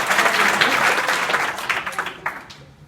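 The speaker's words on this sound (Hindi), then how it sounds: "ताली बजाएं इनके लिए" Audience of schoolchildren and teachers at a village middle school in Kolisa, Azamgarh, clapping together in a dense, steady burst of applause that thins slightly toward the end.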